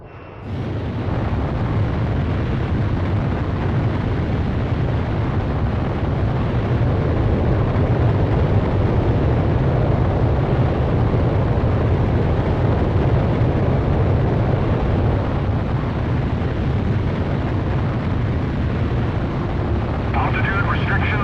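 Sustained, loud roar of a fighter jet powering up for takeoff in the PS2 game Ace Combat Zero: The Belkan War, a broad steady rumble filling the whole stretch with no break.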